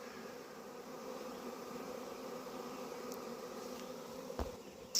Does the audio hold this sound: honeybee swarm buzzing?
yes